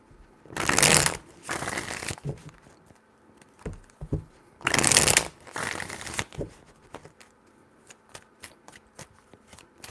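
Tarot cards shuffled by hand in two loud bursts of rapid riffling, each followed by softer tapping and card handling, close and with no talk.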